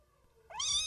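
A cat lets out a single loud, close meow that rises and swells in the second half, with only faint background noise before it.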